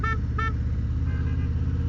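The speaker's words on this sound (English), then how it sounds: "I'm gonna beat the horn at him" Two short honks from a Harley Road Glide Limited motorcycle horn sound over the steady low rumble of the idling engine, followed by fainter tonal beeps.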